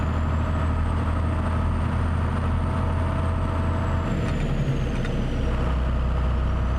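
A Mack truck with a 16-liter engine drives in American Truck Simulator, a loud, steady low diesel rumble with a whining tone rising and falling over it, plus a couple of brief mechanical clicks near the end.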